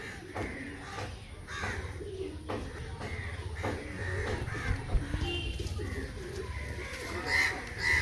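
Kaldum male pigeons in a cage, mixed with other male pigeons, give repeated soft coos and calls against a steady low background murmur, with occasional louder bursts near the end.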